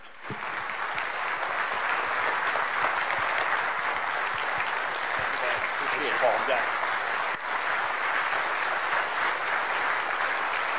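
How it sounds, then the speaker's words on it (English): A large audience at a leadership talk applauds to welcome a speaker, a dense, steady round of clapping that holds at an even level for about eleven seconds. "let's give him a real welcome CCUA round of applause"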